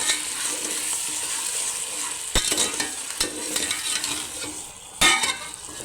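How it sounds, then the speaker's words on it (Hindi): Sugar being stirred in a pan for mutanjan sweet rice: a continuous hiss with a few sharp spoon knocks against the pan, close up, with no voices. "इसे अच्छे से मिक्स कर लें ताकि गिलटियाँ ना बने चीनी की।"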